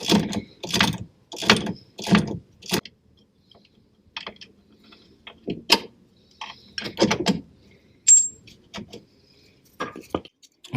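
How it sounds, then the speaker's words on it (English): A ratchet spanner undoes the nut and bolt on the track control arm of a Mk2 Ford Escort, sounding as quick bursts of close metallic clicking separated by pauses and lighter knocks. There is no talking. "Now it's just a case of undoing this nut and bolt here, and then the track control arm's free."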